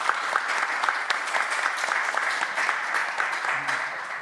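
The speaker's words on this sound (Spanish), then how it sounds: "un fuerte aplauso al trabajo de los profesores" An audience at a panel session on heritage and critical pedagogy applauds the teachers' work with a strong, continuous round of clapping that holds steady throughout, with a brief low tone near the end.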